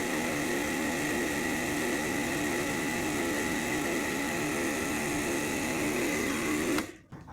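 A Lakoni Daytona 100M electric jet cleaner pump running while sucking up water, a steady loud motor whine with a buzzing drone that holds for about seven seconds, then cuts off abruptly into a quieter tail.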